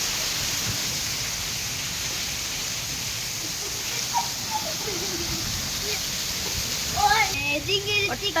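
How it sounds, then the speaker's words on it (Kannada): Heavy rain pours down at night in Bijapur as a steady, loud broadband wash with no breaks, and someone talks briefly near the end. "ಎಷ್ಟು ಜೋರಿದೆ ನೋಡ್ರಿ ಮಳೆ"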